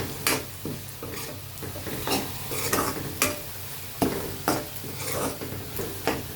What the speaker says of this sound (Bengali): দেশের মতোই ডাল বাগার দিলাম